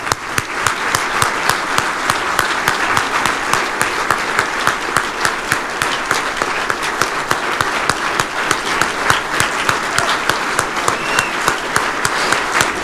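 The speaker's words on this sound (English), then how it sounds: "let's give Jackie a round of applause" A banquet crowd gives Jackie a round of applause at an Aggie Legends dinner in Houston, a dense, steady burst of many hands clapping that holds loud and even throughout.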